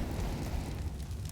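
A grenade blast in a Counter-Strike match on Dust 2, a short low rumbling boom with a crackling tail lasting just over a second, fairly muffled.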